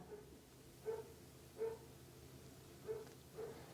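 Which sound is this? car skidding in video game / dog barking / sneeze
dog barking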